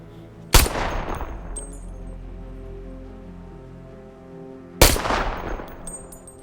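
Two loud rifle shots crack out on a shooting range in the game Enlisted, spaced about four seconds apart, each with a sharp attack and a long rolling echo trailing off into the open surroundings.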